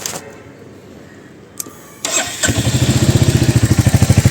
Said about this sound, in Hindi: ये साइलेंसर का मुझे साउंड जो है मैं फिर भी एक बार आपको सुना देता हूँ।